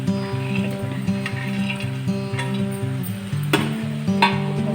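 Ivy gourd fry with fried cashews, chana dal and grated coconut is stirred in a pan, with a soft sizzle and a couple of sharper spatula knocks near the end, under steady background music.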